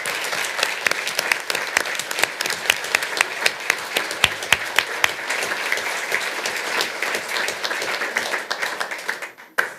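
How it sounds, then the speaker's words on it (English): A room of people at a city council meeting gives a sustained round of applause for young people, dense, even clapping throughout that tapers off and fades out at the very end. "Would you please give a round of applause to these young people?"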